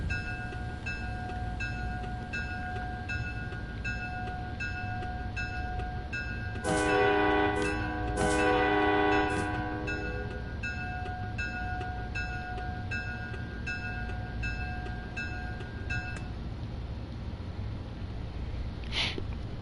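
A passenger train in a train simulator game on PS5 rumbles steadily along the rails, its continuous drone broken midway by a couple of loud horn blasts before the running noise carries on alone.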